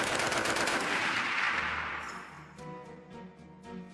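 Browning Automatic Rifle fires a loud, booming sustained burst of automatic gunfire for about two seconds, followed by echoing reverberation and scattered trailing sounds as the shots fade.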